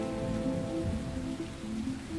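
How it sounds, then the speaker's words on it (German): Rain falls steadily at the Sachsenring race track in Hohenstein-Ernstthal, a continuous close patter with a low rumbling background and no voices. "An diesem Sonntag regnet es immer wieder in Hohenstein-Ernsthal."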